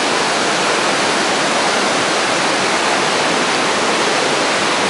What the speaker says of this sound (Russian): Водопад священный.